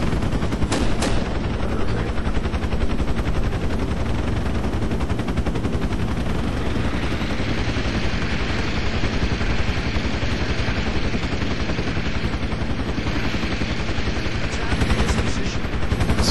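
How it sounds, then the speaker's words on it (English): Project Reality 0.98 combat on the Operation Barracuda map: loud, nearly unbroken gunfire, with rapid machine-gun bursts layered over a dense, constant roar of battle lasting the whole stretch. "He's shooting at me. What are we shooting at?"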